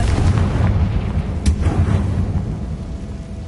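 A deep, rumbling blast from the Confringo fire spell in the video game Hogwarts Legacy, loud and sustained with a sharp crackle partway through, booming alone without talk.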